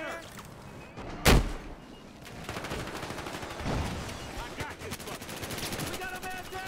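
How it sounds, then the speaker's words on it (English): A grenade blast in the shooter game Battlefield Hardline lands as one sharp loud burst early on, followed by continuous gunfire and battle noise with a voice talking over it. "Oh, that was a grenade."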